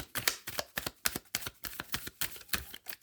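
Tarot cards shuffled and drawn by hand, a close, steady run of crisp papery flicks and snaps repeating quickly and evenly, with no voices.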